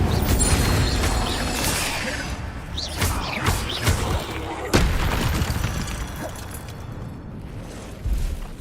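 An Incendio fire spell cast during Hogwarts Legacy combat: whooshing fiery bursts and crashing impacts, with a sharp loud hit midway and rumbling effects trailing off.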